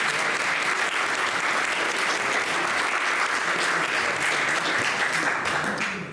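Lecture audience on the Antikythera Mechanism breaks into applause, a dense, even wash of many clapping hands holding steady before tapering off at the end.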